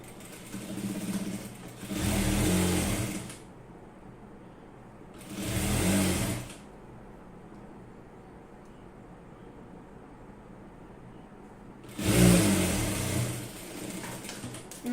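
Sewing machine stitching folded scraps of waste cloth, running in three separate bursts of about a second or so each, with quiet pauses between them and no talking.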